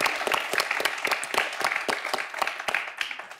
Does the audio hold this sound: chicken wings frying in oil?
no